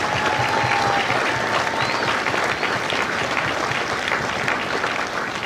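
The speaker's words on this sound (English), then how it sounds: "Would you join me in a round of applause for the families of the Empire?" An audience at a Marine Corps recruit graduation ceremony for Echo Company at MCRD San Diego applauds, a dense, steady roar of many clapping hands that carries evenly through to the end.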